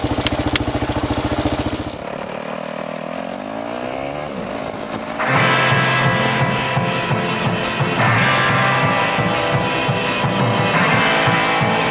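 A motorcycle ridden on the road in California, its engine droning and then revving up with rising pitch, loud and close with wind noise over the ride.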